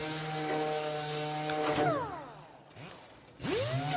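An 8-inch sander fitted with a 36-grit disc, working on a car body panel during auto restoration: a loud motor whine winds down to near quiet, then spins back up to full speed.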